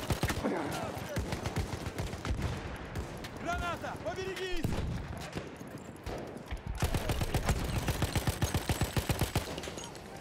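Weapon gunfire in the video game Battlefield 1 cracks out in rapid repeated shots and bursts, loud and close, with distant battle noise and a brief whistling, chirping sound in between; someone talks over parts of it.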